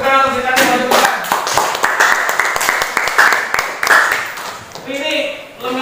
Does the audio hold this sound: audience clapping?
yes